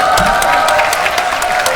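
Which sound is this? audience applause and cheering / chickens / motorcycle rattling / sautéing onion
audience applause and cheering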